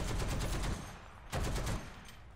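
Bursts of rapid machine gun fire from a T77E1 against a Panzer IV in War Thunder, a sustained rattling volley, a short pause, then another burst, fairly quiet with no talk.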